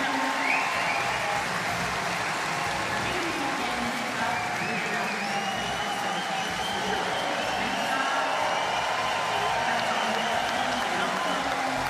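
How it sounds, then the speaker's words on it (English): A large velodrome crowd at a para cycling track race applauds and cheers steadily throughout, a continuous dense wash of clapping and voices, with a commentator's voice running over it. "the crowd really getting behind this pair as they put in a big effort"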